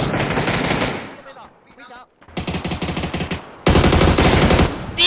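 Loud bursts of automatic gunfire in a shooter video game, fired in several rapid volleys separated by short pauses.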